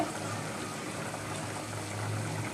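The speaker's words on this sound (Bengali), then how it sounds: "এই তো আমার চনার ডাল ফুটে গেছে" Chana dal boiling in a pot, a steady close bubbling and simmering with a low hum underneath, continuous and fairly loud, no talk.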